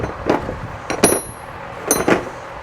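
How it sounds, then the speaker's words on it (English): Metal bolts from a steering wheel puller set clink and knock as they are put back into the case, a few sharp taps and rattles close by with short pauses between, in a cluttered workshop. "let me put these bolts back into my steering wheel puller set"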